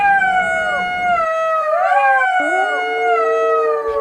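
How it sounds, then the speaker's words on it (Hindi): A jackal howls across open farmland, with several long, wavering, rising and falling tonal cries overlapping loudly and close, and no other sound beneath. "सियार की आवाज खेत के कुछ दूरी पर रहने वाले किसान के कानों में पड़ गई।"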